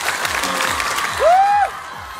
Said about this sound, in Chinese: 来，掌声给他们